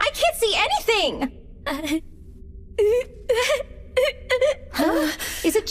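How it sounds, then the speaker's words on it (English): A girl in an English-dubbed anime sobs and wails in high, wavering bursts broken by short pauses, loud and close, with dramatic cries rising and falling throughout. "does it sound like someone is crying?"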